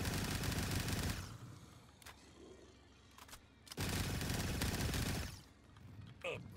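Sustained bursts of AK rifle fire in a zombies shooter game, two long loud volleys split by a short gap with scattered single shots, close and punchy, with a player's voice briefly heard.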